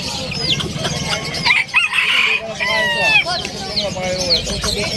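A rooster crows and clucks at a pet market in Bulacan, up close over a noisy background of other birds and chatter.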